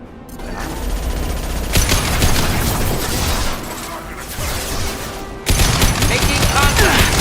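Sustained gunfire bursts from Mass Effect 2 combat, dense rapid shots and impacts with a sudden loud renewed barrage near the end, continuous and close.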